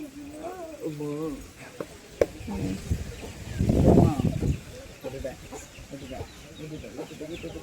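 Chicks and hens cluck intermittently in the background while people talk nearby, with a brief louder burst of noise partway through.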